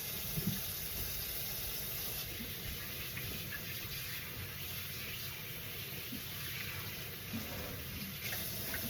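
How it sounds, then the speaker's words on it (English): Water runs steadily from a kitchen sink tap while hands are washed beneath it, giving a soft continuous rush with faint splashes and no talking. "Wash my hands real quick."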